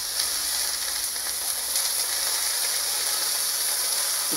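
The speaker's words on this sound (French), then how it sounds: "Je pique les merguez légèrement pour dire leur faire échapper un peu de gras." Spicy merguez sausages sizzle steadily on a lowered hotplate as they are pricked, a constant bright frying hiss with faint clicks and no voices.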